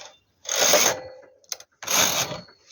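A knitting machine set to tension 9 knitting one row, two loud mechanical carriage sweeps separated by a short clack, close and harsh, with no talking.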